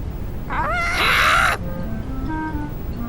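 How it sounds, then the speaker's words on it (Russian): A cartoon parrot squawks in Peppa Pig, one loud rising screech lasting about a second, followed by quieter tonal background music. "Бабушка с дедушкой завели попугая."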